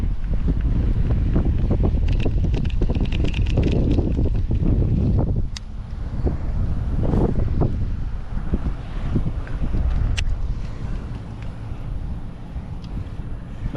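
Wind buffets the microphone outdoors during a fishing trip on the water, a loud steady rumble that eases partway through, with scattered faint knocks and splashes.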